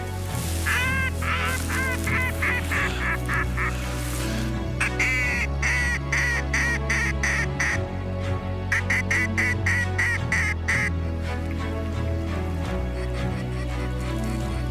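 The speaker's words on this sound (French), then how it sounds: "Un premier mallard mâle qui est sorti d'une grosse bande au loin" Mallard ducks calling in a farm field during a duck hunt, with repeated loud quacks and honking bursts in rhythmic runs over a steady low hum, fairly close and continuous throughout.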